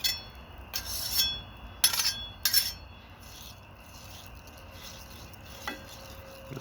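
Onions being stirred into sauce on a griddle outdoors at night: a few sharp metal spatula scrapes and clinks early on, then a soft sizzle that goes on alone.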